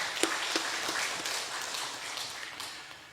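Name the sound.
congregation applauding in encouragement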